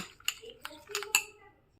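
A spoon clinks against a bowl while mixing neutral gel with water for a marble glaze cake, four or five sharp, light metallic taps spaced irregularly, close and fairly quiet.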